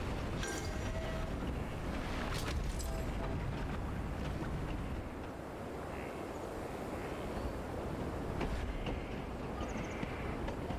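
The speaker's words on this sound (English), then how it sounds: "And get slowed up by the old train." An old train in the rail-building game Railgrade rolls along with a continuous rumbling, clattering roar and faint clicking wheel noise, steady and moderately loud with no voices over it.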